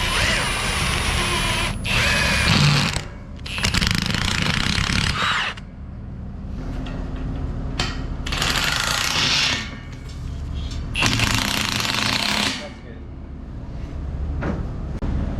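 An impact wrench with a socket drives bolts in a hog barn, firing in several loud, rattling bursts of a few seconds each, separated by short gaps, close to the microphone.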